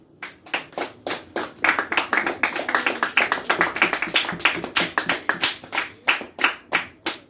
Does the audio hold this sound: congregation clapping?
yes